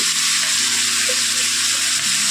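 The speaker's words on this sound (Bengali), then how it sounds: "সে কপিটাকে এবার আমি একটু ভেজে নেবো মাছের তেলেই দিয়ে দিয়েছি" Cauliflower florets sizzling in leftover fish oil in a pan, a dense, steady crackle with soft stirring scrapes, close and continuous.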